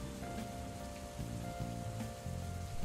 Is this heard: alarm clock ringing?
no